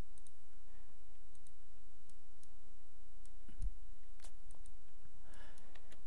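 Scattered sharp mouse clicks tick out at irregular intervals while software is operated. They are sparse and fairly faint against a quiet background.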